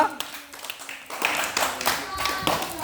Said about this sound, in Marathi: पुन्हा एकदा जोरदार टाळ्या वाजवा